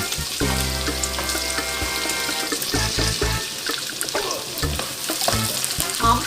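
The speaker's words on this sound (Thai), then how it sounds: "เสร็จแล้วก็พริกแกงเขียวหวานผัดให้หอม" Green curry paste is stir-fried in a pan with a steady sizzle and hiss, while spatula knocks and clatter break through at irregular moments and a tonal hum lingers at the start.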